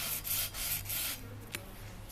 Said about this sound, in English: sanded them with 80 grit to finish them out